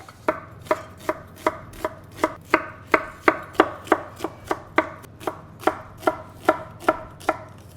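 A knife chops onion for dolma on a board in a steady rhythm of about twenty crisp, evenly spaced strikes, heard close and with no talking.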